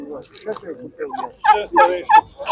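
Turkeys gobbling at an outdoor animal market, loud, rapid warbling bursts, several calls overlapping close by, growing more intense toward the end.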